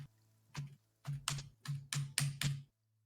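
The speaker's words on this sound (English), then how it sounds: "see how loud I can make the typing." Loud computer keyboard typing in bursts of sharp clacking keystrokes, about seven hits in quick succession, close and alone over a faint hum.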